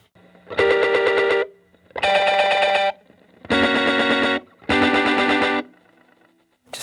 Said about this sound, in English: it's really a reverb pedal, but in this instance, I'm using it kind of like a delay